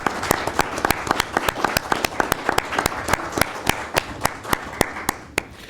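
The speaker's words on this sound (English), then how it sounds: "I think this would be appropriate to give him a round of applause" A small audience at a village president forum gives a round of applause for a former village president, with distinct individual hand claps in a steady, thinning rhythm that tapers off near the end.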